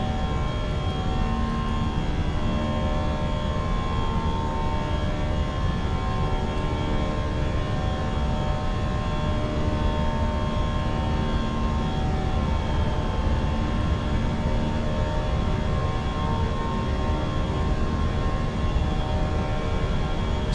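British Airways A319 jet engines hold climb thrust on a Venice to London Heathrow flight, making a steady, loud cabin drone with a sustained tonal whine that stays unchanged for the whole stretch.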